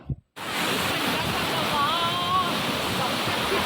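A waterfall in Chhattisgarh roars as a loud, steady rush of falling water after a brief opening moment, broad and continuous with no break, and no talk over it.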